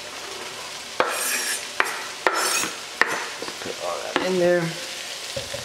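Carrots being stirred into onions in a frying pan, with a steady sizzle broken by four or five sharp utensil clanks and scrapes against the pan, close up; a brief spoken phrase near the start.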